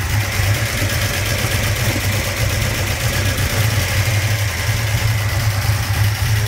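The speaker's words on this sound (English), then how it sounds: "Very, very healthy engine." A 1971 Ford XY GT Falcon replica engine with extractors idles close by with a steady, low rumbling throb and a faint rhythmic pulse, running evenly throughout with no talking.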